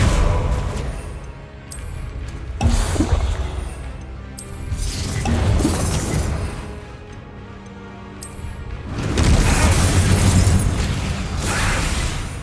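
A Bombarda spell explodes in Hogwarts Legacy, giving heavy booming bursts with crashing debris that swell and fade several times over the game's ongoing sound.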